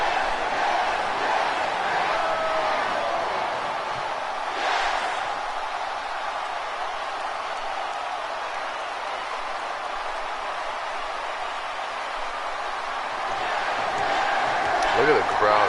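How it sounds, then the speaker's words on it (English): Arena crowd at WrestleMania 30 roaring for Daniel Bryan, a dense, sustained wash of cheering and chanting from thousands, with commentators talking over it. "The crowds were nuts for Daniel Bryan"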